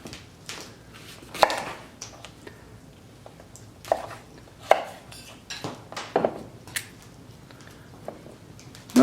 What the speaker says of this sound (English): I am going to cut off any kind of creepy looking parts